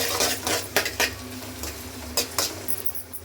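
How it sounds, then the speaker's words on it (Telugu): Onions frying in a pan with ginger paste, stirred with a utensil. Soft sizzling underneath a few distinct scraping and clinking strokes against the pan, fairly close. "ఆనియన్స్ అయితే ఫ్రై చేసుకుని చూడండి అల్లం పేస్ట్ కొద్దిగా వేసానండి"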